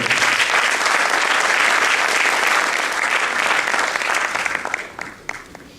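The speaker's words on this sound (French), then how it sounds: "Je vous demande de les applaudir" A hall audience at a French public meeting breaks into loud, dense applause that holds steady before thinning out into a few scattered claps near the end.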